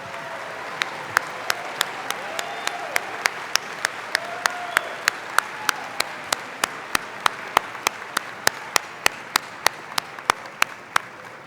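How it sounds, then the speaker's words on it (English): Steady applause from a crowd at a college commencement ceremony, a dense patter of clapping with sharp, regularly spaced clicks cutting through, sustained at moderate loudness throughout. "would you please join me in a round of applause"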